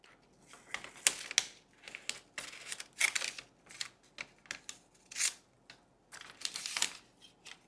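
Scissors snip paper receipts from Panda into small pieces at close range, giving a series of crisp, uneven cuts and crinkles with short pauses between, soft and intimate with no talking.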